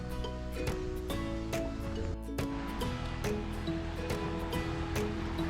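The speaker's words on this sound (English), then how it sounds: "here we can see Smestow Brook" Smestow Brook at Trysull flowing beside a narrow bridge: a continuous close rush of running water with scattered splashes and clicks, steady throughout with no voices.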